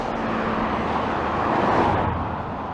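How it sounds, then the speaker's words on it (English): Road traffic noise heard from a sidewalk on an urban walk, a loud, continuous roadway rumble with a vehicle swelling past near the middle. "It's kind of hard to hear over the traffic."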